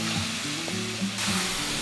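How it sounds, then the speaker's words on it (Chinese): Chicken stir-fried with green and sweet peppers in a wok, seasoned with salt, makes a steady, loud sizzle with a few soft stirring scrapes; it grows a little brighter toward the end. "接着要把已经先炒了8分熟的鸡肉一起下锅，加点盐巴拌炒。"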